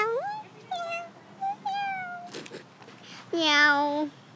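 A person imitates a cat, giving a series of drawn-out vocal meows with gaps between them, close and fairly loud, in a playful setting while dressed up with a cat mustache.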